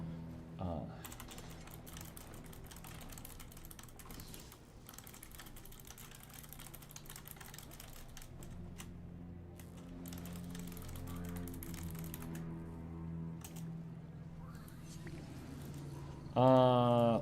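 Typing on a computer keyboard during a Guild Wars 2 livestream: a steady, fairly faint run of key clicks over game sounds, with a louder tone bursting in near the end.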